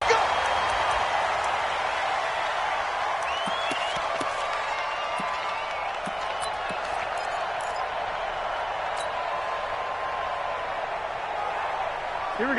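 Stadium crowd roar in an NFL football video game, the Baltimore Ravens taking the field before a sellout crowd, a steady dense wash of cheering and applause throughout with faint scattered whistles and shouts.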